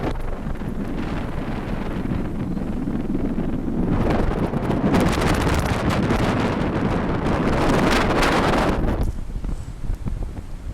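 Strong ocean wind buffets a phone microphone at a flooded coastal bike path where kitesurfers ride high winds, roaring loudly in gusts that swell mid-way and ease near the end, with no talking.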